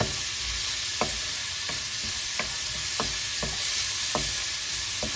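Lots of garlic sizzles steadily in a pan for pork fried rice, a continuous hiss broken by light periodic scrapes of a utensil roughly every half second to second as it is stirred.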